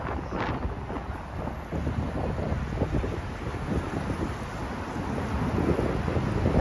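Wind buffets a microphone fitted with a windshield on a street in St. Petersburg, a steady low rumble with gusty swells that builds toward the end, with no voices.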